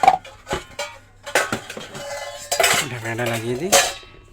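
A plastic lid is set onto a household water filter, giving a few sharp clattering knocks amid other clinking kitchen handling, with a voice speaking briefly toward the end.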